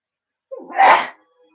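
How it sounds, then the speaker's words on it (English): A single loud sneeze, a short sharp intake followed by a forceful burst about half a second long, close up with no talking around it. "I'm going to sneeze."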